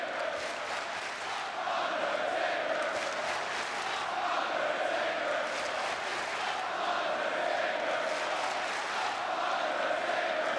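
Wrestling arena crowd on Raw the night after WrestleMania, a dense, steady roar of many voices chanting and shouting together, loud and continuous throughout, drowning out any promo talk.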